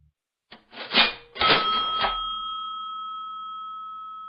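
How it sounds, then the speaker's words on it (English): A cash register sound effect: a quick mechanical drawer clatter and jingle, then a bright ringing chime that hangs and slowly fades, clean and alone. "Cash register's ringing."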